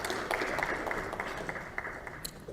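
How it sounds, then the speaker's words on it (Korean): Scattered applause from a political party gathering greets a newly appointed supreme council member, a steady patter of claps that lasts a couple of seconds, moderately distant and thinning toward the end. "우리 최고위원님도 박수 한번 좀 보내주시기 바랍니다"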